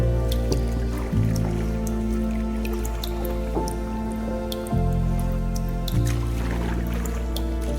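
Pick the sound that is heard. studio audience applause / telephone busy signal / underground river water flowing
underground river water flowing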